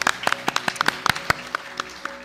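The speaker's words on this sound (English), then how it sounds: "big round of applause to Ricardo for playing Edmund" A small audience at a live Dungeons & Dragons play claps for a player, giving a thin, scattered run of separate claps that tapers off.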